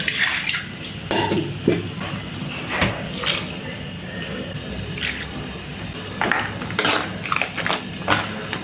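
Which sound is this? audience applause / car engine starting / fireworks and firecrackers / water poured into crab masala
water poured into crab masala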